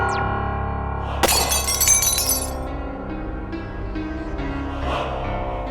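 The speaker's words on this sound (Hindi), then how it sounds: "कांच का पुतला टूटा" A glass statue shatters at a light and sound show, a sudden loud crash followed by a bright spray of tinkling shards that fades, over a sustained musical drone.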